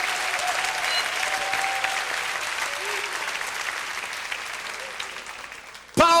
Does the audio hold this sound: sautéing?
no